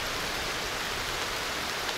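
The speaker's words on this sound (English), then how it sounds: "Oh man, this is nasty rain." Heavy rain pours down steadily in the survival video game Aloft, a dense, continuous wash of noise that stays level throughout with no talk over it.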